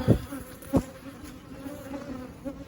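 Angry honey bees swarm from a hive, a close, steady buzzing drone running throughout, broken by two sharp knocks near the start.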